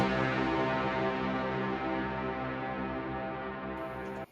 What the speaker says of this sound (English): I think every one of you has experienced annoying reverb tails already in his production journey.